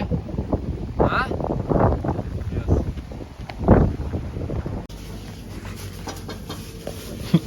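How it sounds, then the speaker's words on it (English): Strong wind buffets the microphone on a bikepacking trip through Europe, a loud rumbling roar with gusty bursts that later settles into a steadier hiss, with people talking intermittently beneath it. "it's very windy, so I'm just gonna talk when it's gonna be calm"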